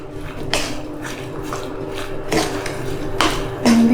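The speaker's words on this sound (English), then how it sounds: "just give that another stir around" Sweet potato fajita filling being stirred in a pan, with a few sharp scraping clicks of the utensil against the pan spread across a few seconds over a low steady background.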